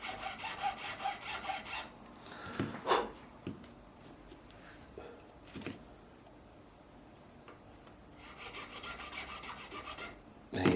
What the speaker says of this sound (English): we're just going to carve ever so gently into the nut